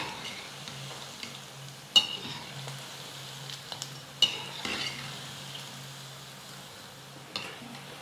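Bonda fry in hot oil with a low, steady sizzle while a ladle stirs them, giving several sharp metallic clanks and scrapes against the pan at irregular intervals, with no voices.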